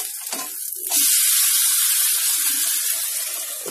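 Egg and potato breakfast frying covered in a pan, a loud, steady, close hiss of sizzling that swells after a few soft clatters and stays dense and continuous.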